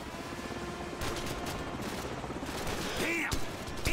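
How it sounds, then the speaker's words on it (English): Gunfire and enemy helicopters in Call of Duty 4: Modern Warfare, with dense bursts of shots over a continuous rumble and a rising whine near the end, and a voice calling out briefly. "Enemy helicopters!"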